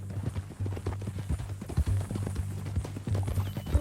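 Horse hooves in Red Dead Redemption 2 clip-clop in a quick, uneven rhythm, fairly close, with a low steady hum beneath.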